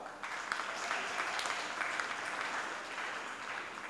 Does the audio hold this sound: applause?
yes